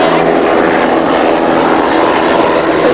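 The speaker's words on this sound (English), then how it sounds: "This helicopter right here, Channel 5 helicopter" Steady, loud engine and rotor drone of a Channel 5 news helicopter flying nearby, a dense continuous roar with no pauses or speech.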